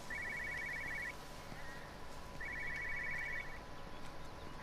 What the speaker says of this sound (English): There is a phone going off